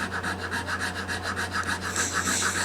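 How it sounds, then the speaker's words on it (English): A hand file rasps across a hard finish on a leather strap in rapid, even back-and-forth strokes, close and fairly quiet, with a steady low hum underneath. "I like to use a file first before I sand"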